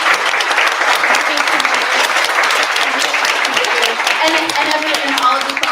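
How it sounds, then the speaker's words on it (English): Audience applause for panelists after a guaranteed basic income panel discussion, sustained crowd clapping that stays loud and steady for several seconds, with voices talking over it. "give another round of applause for Amy and Patanjali and Jaelynn and Abigail"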